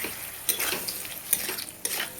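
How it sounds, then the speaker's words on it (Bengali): Potatoes stirred and sautéed in a pan of tomato masala: a steady sizzling hiss broken by a few louder scraping strokes of the spoon, close by, with no voices. "আলুটা এরকমভাবে কষিয়ে নিতে হবে"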